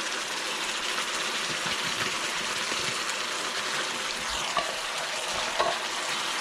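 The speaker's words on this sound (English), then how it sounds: "I'm going to put the refried beans right into this meat mixture" Canned refried beans get stirred into a sizzling ground beef mixture for burritos, a loud, continuous frying hiss close up with a couple of faint scrapes from the spoon near the end.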